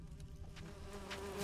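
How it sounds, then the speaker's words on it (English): Swarming bees in the video game Witcher 3 give a steady, close insect buzz that holds a wavering drone for the whole moment, rising slightly in loudness toward the end with no voices over it. "Fucking bees, goddammit."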